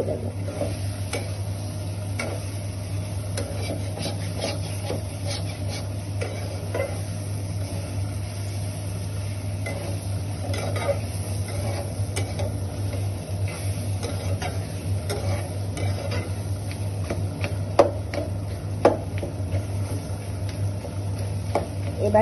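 Carrots for a sweet, sour and spicy pickle are stirred and fried in spices, with a soft steady sizzle and repeated scraping and ticking of a spoon against the pan.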